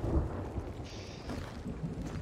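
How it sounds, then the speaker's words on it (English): Stormy ocean in the pirate game Sea of Thieves, with a steady roar of wind, rain and heaving waves and a low rumble of thunder near the start, continuous and fairly loud with no talking. "The waves are picking up, boys! The storm is a brewing!"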